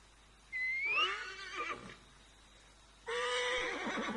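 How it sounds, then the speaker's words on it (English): A horse in Assassin's Creed Origins gives two loud, close whinnies separated by a short pause, each a rising then wavering neigh, with no talking. "Holding the down button brings the horse."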